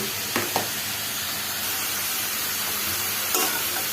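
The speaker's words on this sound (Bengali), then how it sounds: "আমি এগুলোকে একটু নেড়ে মিশিয়ে দিচ্ছি।" Vegetables dusted with cumin powder frying and being stirred in a pan, a steady close hiss of oil with a couple of sharp utensil scrapes near the start and another toward the end, no voices.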